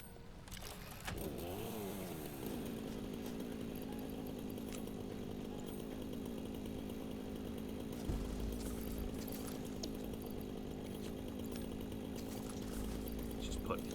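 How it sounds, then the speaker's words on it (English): A chainsaw in the video game Satisfactory clears trees: a steady loud engine drone that revs up early and holds for a long stretch, with a voice talking over it. "let's get our chainsaw out"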